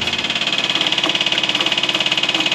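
A loud engine running steadily with a fast, even pulsing throb and a strong droning hum, close by and uninterrupted.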